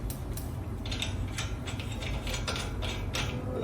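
A ratcheting tool tightens the axle nut on a third-generation Toyota Tacoma wheel hub with a rapid, continuous series of close mechanical clicks over a steady background rumble.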